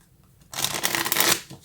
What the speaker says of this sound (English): let's get some cards from the universe